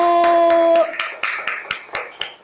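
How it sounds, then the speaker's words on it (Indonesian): A group of people in a classroom claps in rhythmic, evenly spaced bursts to applaud the first group of presenters, with a sustained tone fading out early on. "beri tepuk tangan untuk kelompok 1"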